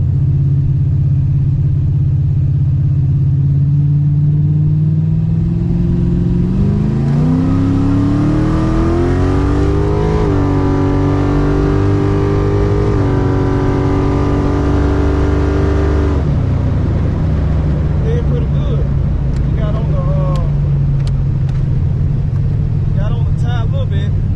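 A race car engine idles with a loud rumble, then revs up in a long climbing roar during a drag racing test pass and settles back to a rough idle, close and dominating throughout.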